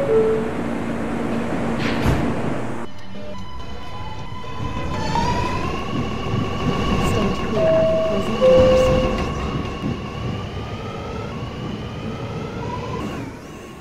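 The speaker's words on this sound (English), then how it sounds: "This is the last stop on this train." Subway train standing at a terminal station, a steady low rumble with long tonal hums and whines, loud and close, ending in a rising electric whine.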